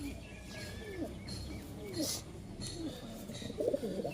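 Pigeons in a home loft coo in repeated soft, rolling calls close by, over a busy background with other murmuring sounds.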